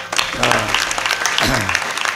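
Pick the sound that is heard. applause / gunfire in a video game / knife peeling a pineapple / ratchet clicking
applause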